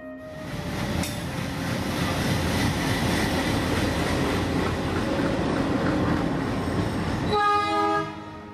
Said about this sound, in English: Durga Prasad and Rajesh woke up every day to the blaring of train engines or the screeching halt of its iron wheels